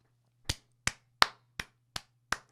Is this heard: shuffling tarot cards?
no